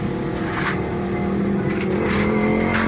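Loud, continuous drone of a Suzuki Alto 1000cc engine held at raised revs under the accelerator, with a pick-up misfire and fuel fault, rising slightly in the final moments.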